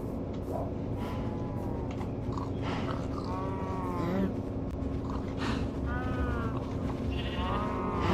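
Sheep bleat in a survival video game, several short wavering calls scattered through the clip over a steady game background hum, with a person talking intermittently.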